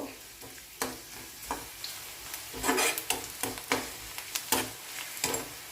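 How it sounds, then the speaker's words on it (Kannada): Garlic cloves and a small onion frying in a pan for a Kadaknath chicken curry, a soft sizzle punctuated by repeated sharp scrapes and knocks of a spatula stirring against the pan. "ಈಗ ಇದನ್ನೊಂದು ಸರಿ ಫ್ರೈ ಮಾಡ್ಕೊಳ್ಬೇಕು"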